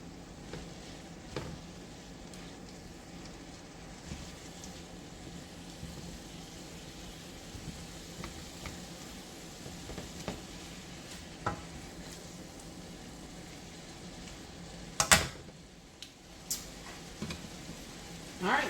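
Zucchini noodles cooking in a pan for Alfredo give off a low, steady sizzle with occasional stirring scrapes and a few sharper clatters near the end, fairly quiet throughout.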